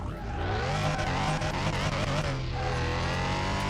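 A Porsche 911 engine in Car Mechanic Simulator 2021 revving hard under acceleration, a loud, steady roar that climbs in pitch through the gears and keeps going without a break.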